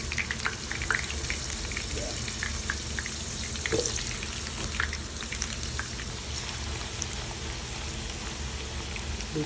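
Chicken pieces fry in a pan of hot oil, a dense continuous crackling sizzle with scattered pops, steady and close throughout; a voice briefly speaks over it.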